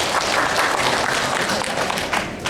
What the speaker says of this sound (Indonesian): Tepuk tangan untuk Bapak Suratman.